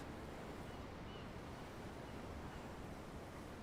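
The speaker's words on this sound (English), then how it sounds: "I'm looking at the ocean. The ocean? Yeah. The waves." Ocean waves in Tales of Arise, heard from a ship's deck: steady, faint, continuous surf wash with a windy hiss, no distinct breaks, and no voices.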